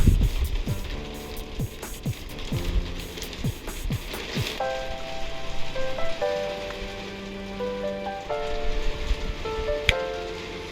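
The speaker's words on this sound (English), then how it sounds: "Good old English weather, we've now got hailstones." Hailstones patter and drum on the outside of a Mk2 Escort during a downpour, making a steady, close rattle of hits. A few sharper knocks stand out over a faint electrical hum.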